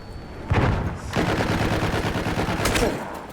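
Rapid gunfire rattles in Battlefield, a sharp burst followed by a loud, sustained stream of automatic shots that tapers off near the end.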